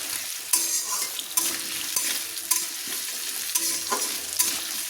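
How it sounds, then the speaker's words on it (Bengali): Potatoes frying and being stirred in a hot pan for a Bengali pui chyachra dish, a constant close sizzle broken every second or so by the scrape and clink of the spatula, with no talking. "এবার আমি আলুগুলোকে একটু কিন্তু লাল লাল করে ভেজে নেব।"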